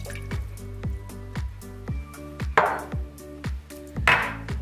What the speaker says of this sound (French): mettez l'eau et le beurre coupé en parcelles dans la casserole